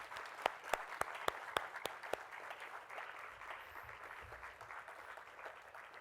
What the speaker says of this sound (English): give a big round of applause to all your teachers and your parents as a token of thanks